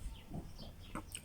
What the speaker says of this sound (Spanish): Están felices los pajaritos.